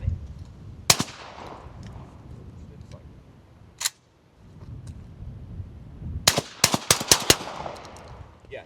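Maverick 88 shotgun fitted with a YHM VICTRA-20 suppressor firing outdoors, a sharp report near the start and another a few seconds later, followed by a quick cluster of cracks and clicks over a low, rumbling background.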